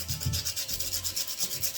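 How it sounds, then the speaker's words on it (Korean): Sandpaper rubbing a pipe end smooth before fitting a joint during a plumbing fixture swap, a steady rasping scrape in quick repeated back-and-forth strokes, close and continuous with no voices. "하이디알 조인트가 잘 물기도록 사포질을 해서 마무리를 해보도록 하겠습니다"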